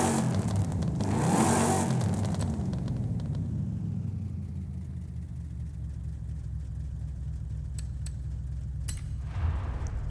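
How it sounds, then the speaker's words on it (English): A 1970 Chevelle with a race exhaust and a supercharger upgrade in the Forza Horizon 5 video game, its engine revving up loudly and then settling into a steady, deep rumbling idle, close and continuous with no talk. "we want it to sound perfect, so we'll get the race exhaust going"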